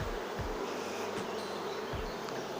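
A honeybee swarm, caught at an apiary during acacia flowering, buzzes in a dense, continuous drone close by, with a few low thumps from handling underneath and no talk.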